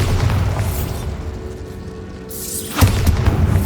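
Bombarda spell explosion in the video game Hogwarts Legacy, a loud booming blast with a sweeping whoosh and rumbling tail, followed by a second sharp burst near the end.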